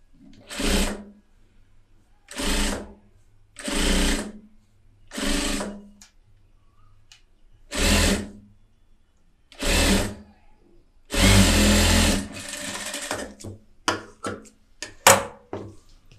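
A sewing machine stitches piping from the top side in short, close, even bursts, about seven runs with one longer stretch, separated by quiet gaps and a few small clicks and taps at the end.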